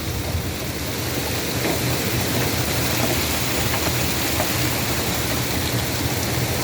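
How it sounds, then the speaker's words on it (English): Rain falls on an evening in a steady, dense hiss with no pauses, fairly loud and even throughout, with no voices or other sounds standing out. "Oh, you're watching the rain?"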